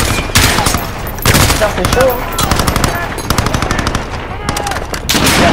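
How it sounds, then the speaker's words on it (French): Loud, sustained machine gun fire in Call of Duty Modern Warfare rattles in rapid bursts, with a few short gaps, while a man mutters briefly underneath. "Tire sur la mitrailleuse."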